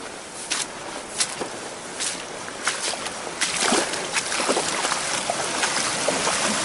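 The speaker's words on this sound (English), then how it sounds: "Got a creek here." Water from a creek running along a walking track, with a steady broadband rush and splashy, sloshing bursts, close and fairly loud, plus intermittent footsteps or movement through the water.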